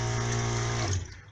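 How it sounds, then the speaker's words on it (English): Small cold water faucet in a converted cargo trailer camper, fed by a noisy 12-volt pump with a pressure switch; a close, steady humming pump drone with running water for about a second, then it cuts off abruptly. "We have a little cold water faucet here, and this is run by a little pump."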